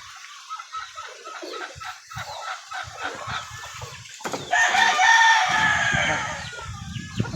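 A pet junglefowl (labuyo) rooster gives a loud, close crow about halfway through, after scattered clucks and soft fowl calls from nearby birds.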